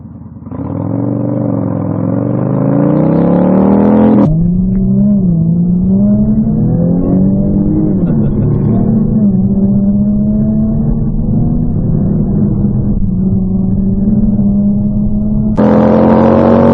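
Classic car engines rev loudly and continuously at a Sunday classic car meeting at Spetchley, rising and falling in pitch with a brief shift partway through and a burst of throttle near the end.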